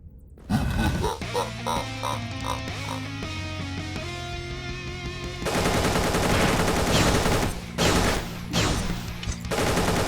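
AK assault rifle fire in the pixel-art dungeon action game Dungreed: rapid bursts of loud gunshots over busy game music, dense and continuous with a few short pauses.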